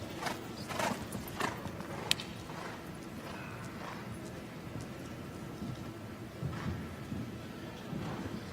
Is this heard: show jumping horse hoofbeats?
yes